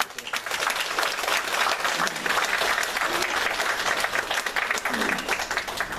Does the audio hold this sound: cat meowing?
no